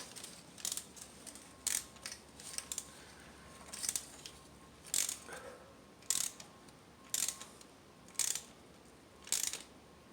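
A ratchet wrench tightens a spark plug on a 2010 Nissan Sentra, giving short bursts of clicking pawl ratcheting at irregular intervals, faint and close by in a quiet setting.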